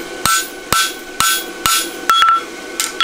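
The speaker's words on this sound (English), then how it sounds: "We'll just take our hammer and we'll continue to clean those up." Close, loud hammer blows ring out as a fullered horseshoe is flattened and cleaned up on an anvil, six crisp strikes spaced roughly half a second apart, with a brief metallic ring after a double tap.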